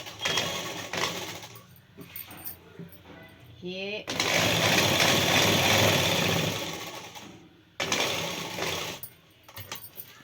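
A sewing machine stitches a pair of trousers along a chalk line in bursts of steady whirring, a long run in the middle, broken by short pauses and handling sounds, with a voice present at times.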